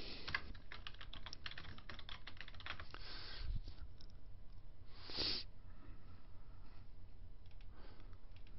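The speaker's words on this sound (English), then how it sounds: "I'm going to type in" Quiet, rapid keystrokes on a computer keyboard tap along in irregular bursts with a few louder clacks, recorded faintly and close, with no voices.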